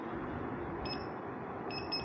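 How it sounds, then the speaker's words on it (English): The speed alarm on a Begode T4 electric unicycle gives two short, high electronic beeps, one near the middle and another near the end, over steady riding and wind noise, with no talk. "I gotta turn off the speed alarm again"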